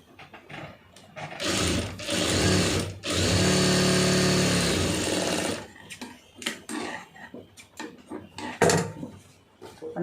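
A sewing machine stitches a blouse in a steady run lasting a few seconds, loud and close, followed by scattered clicks and handling knocks of fabric and machine.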